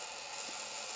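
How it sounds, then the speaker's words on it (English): Metal differential gears in an FMS FCX24 RC crawler being run in without load, giving a steady, even whirring mesh that holds throughout at a low level. "the gears seem to be meshing very well, and I'm just giving it a run in, not under load"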